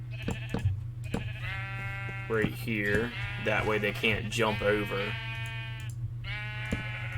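Minecraft sheep bleating repeatedly in wavering calls over a steady low hum, with someone talking over them.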